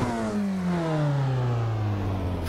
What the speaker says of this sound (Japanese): 吹け落ちあんまり良くないんだよね、このエンジンね